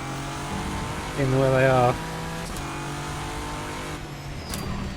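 A race car engine in the sim racing game rFactor 2 hums steadily at a constant pitch, with a brief louder rising rev, while someone talks over it.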